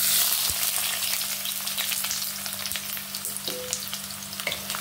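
Sliced medium onions hit hot oil and fry with a steady, close crackling sizzle, a constant bright hiss dotted with small pops and spits, continuing alone without any voices throughout.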